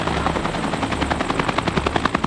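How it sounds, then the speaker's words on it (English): A helicopter is arriving, with a loud, steady rotor chop beating in rapid rhythm close by. "When more backup is needed, the helicopter arrives to save the day."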